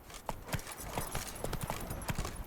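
Roach, Geralt's horse in The Witcher 3: Wild Hunt (Blood and Wine), gallops with a steady, fairly loud clip-clop of hooves, each beat sharp and close, running on without voices.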